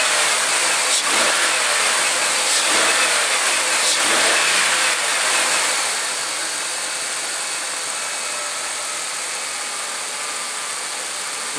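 2003 Mercury Sable engine with a newly replaced belt tensioner, revved up near the mic with a rising roar and a few surges, then settling back to a steady quieter idle without squeal.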